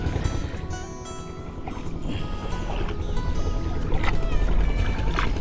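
Steady rumble of a paddled boat on a river with water sloshing and gurgling around the hull, continuous and fairly loud.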